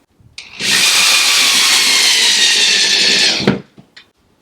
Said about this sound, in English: when you have cheap wood, you pre-drill it so it doesn't crack on you